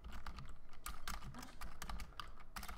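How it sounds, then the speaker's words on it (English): Quiet, irregular clicking of keys as someone types on a computer keyboard, with short bursts of keystrokes and brief pauses between them, heard close up. "I have to be able to type things"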